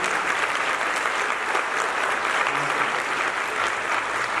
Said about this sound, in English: would you give him a round of applause for his production?